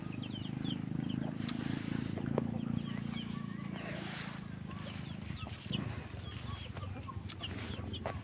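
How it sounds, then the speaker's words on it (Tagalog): Chickens clucking and murmuring softly in the distance over a steady outdoor hum, with a few sharp ticks and no talking. "daming manok"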